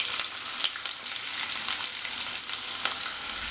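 Onions fry in hot oil with mustard seeds, urad dal and chana dal, giving a soft, steady sizzle with faint pops, fairly quiet and without talk.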